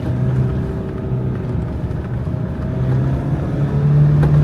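A 4x2 car forced uphill in first gear on a snowy mountain road in Spiti, with a steady, strained low engine drone that holds throughout and swells slightly louder toward the end, no voices.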